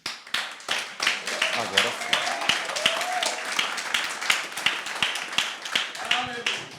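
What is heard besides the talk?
congregation clapping for Jesus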